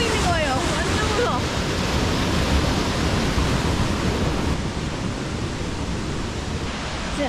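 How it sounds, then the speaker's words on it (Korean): Waterfall at Plitvice Lakes National Park in Croatia, a broad constant rushing roar filling the whole clip, loud and steady, with wind buffeting the microphone. "폭포 너무 멋있는데?"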